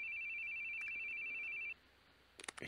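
A phone rings in the horror video game The Boogie Man, a steady repeating electronic ring that holds for under two seconds and then cuts off, followed by brief soft clicks and rustles.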